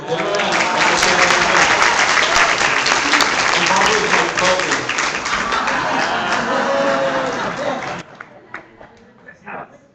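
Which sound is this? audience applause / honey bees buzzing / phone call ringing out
audience applause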